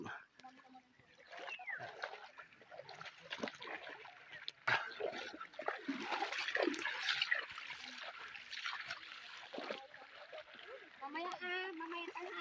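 Water splashes and trickles as people wade across a river in the Philippine countryside, quiet irregular sloshing heard under ongoing talk and nearby voices.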